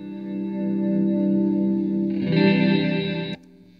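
An electric guitar runs through an OBNE MINIM reverse reverb pedal, giving a sustained chord that swells into a brighter wash and then cuts off abruptly, leaving a faint tail.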